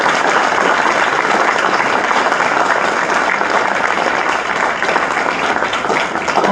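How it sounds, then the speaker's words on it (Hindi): Loud, dense applause from the audience at a stage drama event, many hands clapping continuously and evenly throughout, close and full with no pauses. "सबसे पहले तो एक बार जोर से तालियां मेरे लिए प्लीज।"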